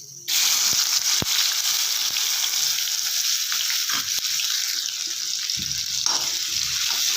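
Chopped onions with cumin seeds sizzle steadily in hot oil on medium heat for amaranth leaf palya, a continuous bright hiss with a few sharp ticks and a stirring scrape near the end, close and alone.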